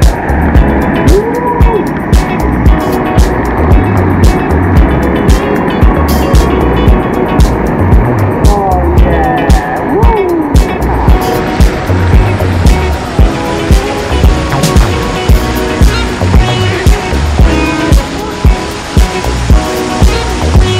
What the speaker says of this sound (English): Let's go under the waterfall.